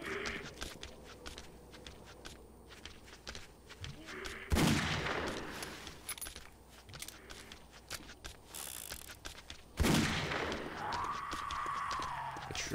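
Gunshots in the 7 Days to Die video game, two loud sharp shots several seconds apart, with quieter clicks, mechanical handling and footsteps in between.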